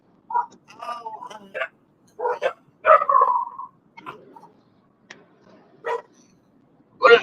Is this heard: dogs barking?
yes